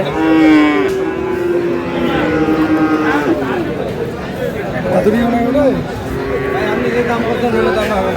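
A Friesian bull calf lows in drawn-out moos at a busy cattle market in Aftabganj, Dinajpur, close and loud over crowd chatter and nearby voices.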